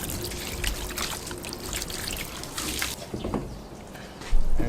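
Water trickles and splashes unevenly while an old Chevy steering wheel is rinsed clean, a close, fairly quiet stream with small surges and drips.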